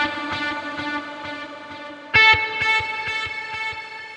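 Distorted electric guitar through a Tim Henson Archetype amp plugin with modern-mode delay, a sustained chord ringing before a fresh picked chord at midpoint, with repeating echoes pulsing rhythmically behind it.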